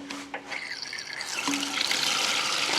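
Water draining from a residential hot water tank after its collar is unscrewed during plumbing winterization, a steady close splashing rush that swells louder and broader partway through, spilling onto rocks and dirt.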